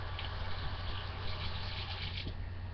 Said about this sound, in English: now I need to rinse it off